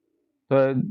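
A single racing pigeon of a Sultan line gives one short, close coo that starts abruptly after a brief silence.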